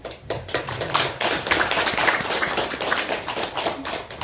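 Hand clapping rings out in a hall at a 20th presidential election candidates' policy debate, a quick, fairly loud run of sharp claps that continues steadily throughout.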